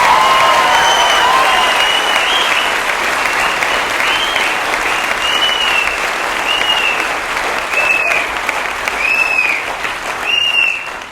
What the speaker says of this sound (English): Let's give them another really big round of applause.